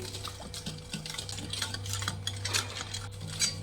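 Eggless desiccated coconut cake batter of sugar, curd, vanilla and warm milk being mixed in a bowl, with soft scraping and light clinks of a spoon against the bowl, close and moderately quiet, with no talking.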